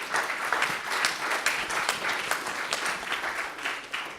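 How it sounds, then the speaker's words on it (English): A room full of people claps in sustained applause, a dense patter of hands at moderate distance. "Round of applause again."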